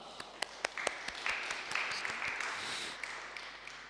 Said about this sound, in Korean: 예배 받으신 하나님께 영광의 박수 올려드리겠습니다.